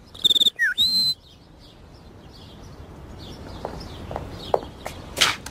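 A Family Guy character whistles imitation bird calls, a rapid trill and swooping chirps up front, followed by fainter chirps and clicks over a quiet outdoor-style hiss.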